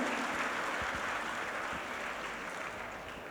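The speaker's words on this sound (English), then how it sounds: "Can I have a big round of applause for all of our sponsors and media partners?" A conference closing-ceremony crowd applauds for the sponsors and media partners, a steady, fairly soft wash of clapping from a large hall that fades slightly toward the end.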